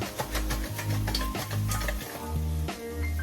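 Potato wedges cooking in an air fryer near the end of their time, with a continuous frying sizzle over a steady hum and a few clattering knocks.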